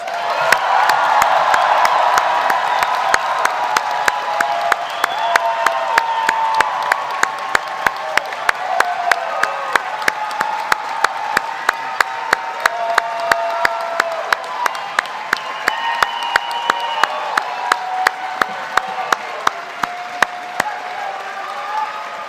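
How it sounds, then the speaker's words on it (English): Audience at a medical school commencement ceremony gives a long, loud round of applause for the graduates, dense sustained clapping with a few cheers and whoops, steady at first and thinning slightly toward the end. "join me in congratulating once more our graduates with a thunderous round of applause"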